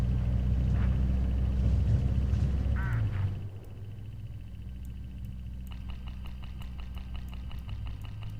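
Hooded crows caw a few times along a roadside in the video game Hitchhiker, short harsh calls heard over the steady low rumble of a moving car's engine.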